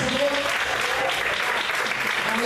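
A church congregation applauding during an evening service, steady dense clapping from many people filling the room, with voices faintly mixed in.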